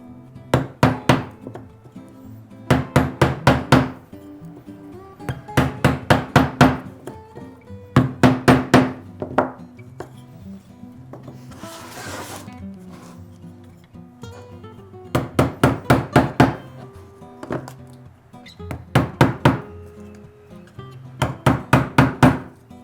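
Rattan cane being gently tapped into a tray frame, heard as bursts of three to five quick light knocks repeated in groups with short pauses between, close and distinct with no talking.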